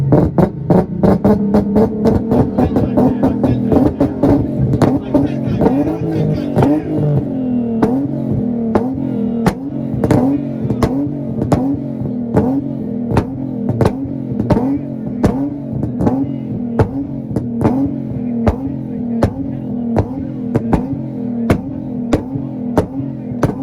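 Black Nissan Z car with a VQ engine revving hard at a two-step rev battle launch, a loud rapid stuttering burst of regularly spaced pops over a droning engine, close and sustained.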